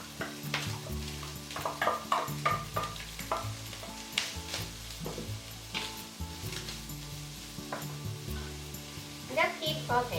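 Garlic and onion sautéing in a pan for carbonara-flavoured rice, a quiet sizzle with occasional stirring scrapes beneath a talking voice.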